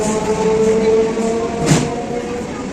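Inside a nearly empty Howrah-bound train moving at night: a constant loud rumble and hum of the carriage, with a single brief clunk partway through.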